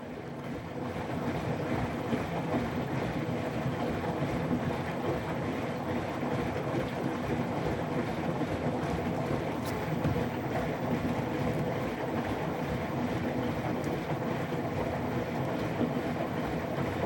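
A Hotpoint Active Care washing machine rinsing suds from its drum, heard as a loud, continuous watery rushing and churning wash that holds steady throughout with no voices.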